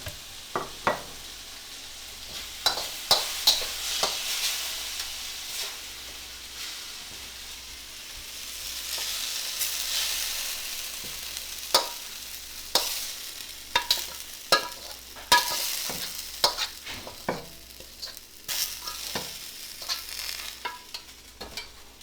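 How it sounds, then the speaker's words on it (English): Tomato and egg being stir-fried in a wok: a steady sizzle with repeated sharp scrapes and clanks of a spatula against the metal, irregular and close, with no talking. "So tomato egg stir fry, sliced potato stir fry"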